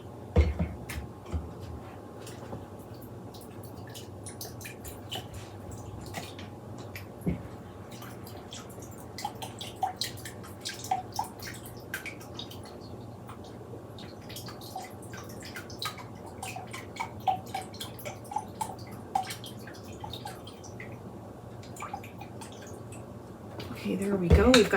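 Liquid aminos are poured into a measuring cup for a braised short rib sauce, a thin trickle and soft drips running under a steady background hum, with a splash near the end.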